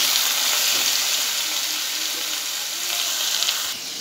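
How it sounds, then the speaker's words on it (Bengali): Potatoes seasoned with turmeric and salt fry in a pan, giving a steady, bright, close sizzle with a soft shift near the end. "এবার আমি আলুটাকে ভালো করে ভেজে নেব।"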